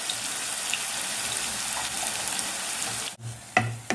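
Curry leaves and green chillies sizzle in hot oil with a steady close hiss, briefly dipping near the end before a sharper burst of crackling and stirring.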